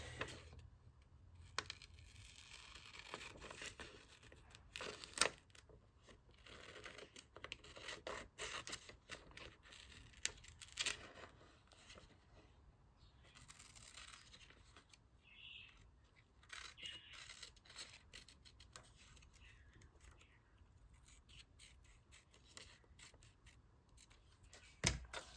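Scissors trim around a vintage paper image for a paper collage, close-up, with repeated crisp snips, scraping and rustling paper spread irregularly over a long stretch, no talking.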